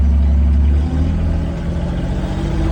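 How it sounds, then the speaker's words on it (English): AGT NT30 mini excavator engine, warm, running steadily close by with a dense low rumble and a slight dip in tone partway through, no voices. "The machine is warm, so we're just gonna reach down. It will fire up."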